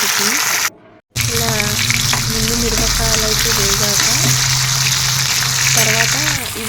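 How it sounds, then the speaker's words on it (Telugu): Green tomatoes fry in hot oil in a pan with a loud, continuous sizzle, briefly cut off once, while a voice speaks over it. "వేసాక టమాటాలు కూడా ఇలాగే వేయించాలి"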